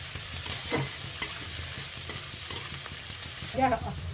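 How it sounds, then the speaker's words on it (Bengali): Chopped onions frying in a pan for a taro-leaf curry, with a soft continuous sizzle and a few stirring scrapes and knocks from a spatula. "পেঁয়াজটা একটু ভেজে নেব"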